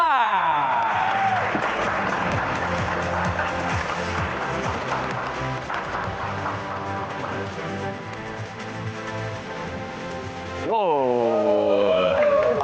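Audience applause at a beauty pageant stage event, a dense steady wash of clapping with musical tones underneath, continuing for several seconds before a louder swell near the end.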